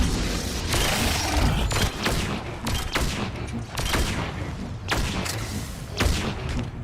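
Rapid bursts of sci-fi gunfire from Mass Effect 3 combat against space monsters, loud repeated volleys with heavy booming impacts and mechanical clatter, continuing steadily throughout.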